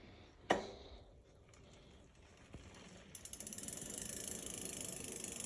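A restored stolen bicycle's rear wheel freehub ticks in a rapid, even run of clicks as the wheel spins, close and quiet, after a couple of sharp knocks near the start.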